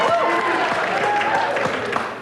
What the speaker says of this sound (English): The crowd is cheering for George Bush, by the way.